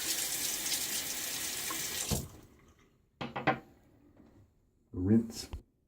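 Tap water pours steadily into a sink for rinsing during a shave, then cuts off, followed by a few brief splashes and handling noises and a short final burst of running water.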